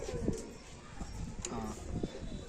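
Teddy pigeons coo in low soft bursts at close range, a few short throaty calls spread across the moment, with people talking nearby.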